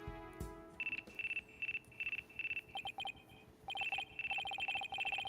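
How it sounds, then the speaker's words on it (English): A phone in the Apollo Justice: Ace Attorney video game rings with repeated electronic trills in short regular bursts, quickening near the end, with no talking. "It looks like I have a phone call."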